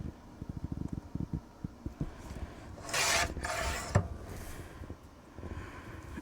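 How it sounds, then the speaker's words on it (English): Paper is sliced into a 6 3/8 inch strip while scrapbooking a paper bag album, with soft rasping cuts and a couple of longer scraping strokes over light tapping and handling noise, close and fairly quiet. "So I'm going to cut a 6 3/8 inch strip."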